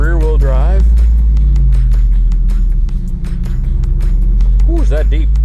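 A Jeep Wrangler 392 with an ATLAS transfer case drives in four low, its engine giving a loud, steady, deep rumble throughout, with a voice talking briefly at the start and end.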